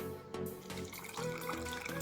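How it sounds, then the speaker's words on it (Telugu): Water from a tap pours into a mixer jar, a short steady trickling splash that runs without pause, fairly close and alone, with no voices. "ఇప్పుడు వాటర్ పోసుకుందాం"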